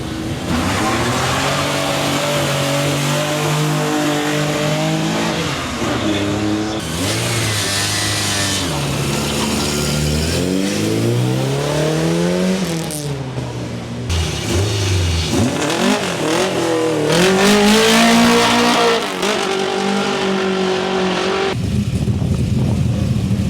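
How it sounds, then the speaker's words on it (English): Race cars launch hard at the Simola Hillclimb, loud revving engines climbing and shifting through gears with rising and falling pitch, one car after another, close and roaring with brief tire squeal. "there's a few cars coming up that are going to do a couple launches"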